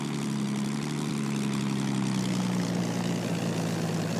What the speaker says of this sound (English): This particular one is likely running the Rolls-Royce Merlin 45 supercharged V12